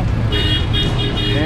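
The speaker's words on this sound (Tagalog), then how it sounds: "Yan yung traffic." Heavy road traffic in Manila rumbles steadily while a car horn gives several short, repeated toots close by.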